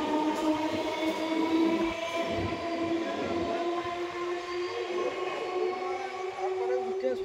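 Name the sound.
railway station ambience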